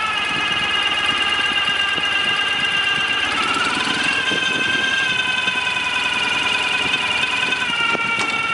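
A Ural Gear-Up sidecar motorcycle engine runs in first gear, a loud, close, steady drone whose pitch shifts slightly partway through, with a faint clunk near the end.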